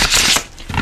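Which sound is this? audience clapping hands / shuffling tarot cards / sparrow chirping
shuffling tarot cards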